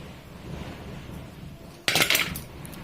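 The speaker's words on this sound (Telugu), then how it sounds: "సో ఇప్పుడు వీటిని తీసేసుకుందాము మంచిగా, ఆయిల్ అంతా పక్కకి వచ్చేంత వరకు." A metal spoon clinks and scrapes against a pan of hot oil as fried golden-brown punugulu are lifted out. One short, loud burst of clatter follows a quiet stretch of low background noise.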